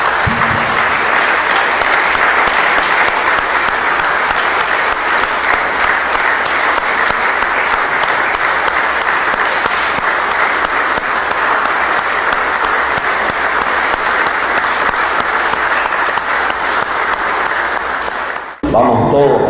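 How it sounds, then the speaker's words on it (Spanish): A standing crowd gives a full minute of tribute applause: steady, loud, unbroken clapping for about eighteen seconds that stops abruptly at the end, with some voices mixed in. "regalémosle un minuto de aplauso"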